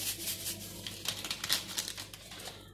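Someone opens a vanilla sugar sachet while making a simple homemade dessert, giving faint, close crinkling and tearing of the paper packet in a quick irregular burst that fades out at the end.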